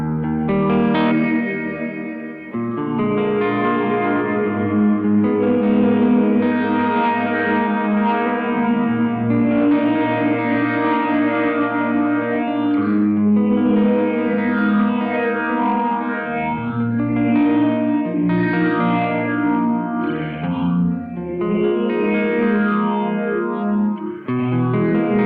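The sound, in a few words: DigiTech Supernatural pedal reverb with phaser effect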